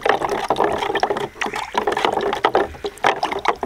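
Primer being stirred into about 500 ml of water, a steady sloshing, gurgling churn of liquid that runs close and continuous with no talk.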